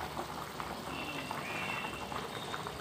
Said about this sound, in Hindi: चलिए हमारे एक से दो मिनट हो गए और अच्छा बॉईल हो रहा है।